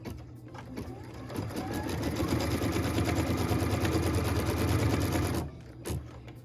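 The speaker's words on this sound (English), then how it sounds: "What we're stitching now is the tack down line for piece number 6." A sewing machine runs one long continuous stretch, sewing the tack down line on a quilt piece, a steady close mechanical whir that stops cleanly near the end.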